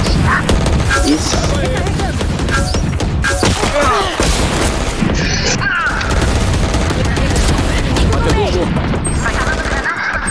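Rapid gunfire from the video game Valorant, dense overlapping bursts of shots with booms running loudly and continuously throughout.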